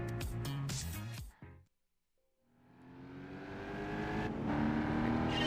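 Racing car engines in Gran Turismo 5 during a 12-car race, a loud revving drone cutting out to near silence before rising again as engines rev and accelerate.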